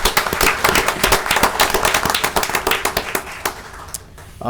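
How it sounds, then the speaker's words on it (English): Audience at a Shreveport city council meeting claps in a dense, steady burst of applause that runs loud for several seconds, then thins and fades near the end. "Can we give them a round of applause as well?"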